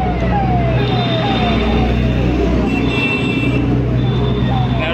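Police car and ambulance sirens wail in rising and falling sweeps on a busy road, over a constant rumble of traffic, while a voice talks through it.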